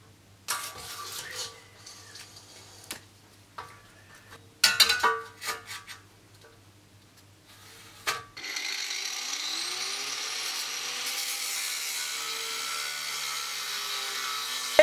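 Scattered metallic knocks and clanks give way to a loud, continuous grinding cut through square metal tube that runs steadily to the end.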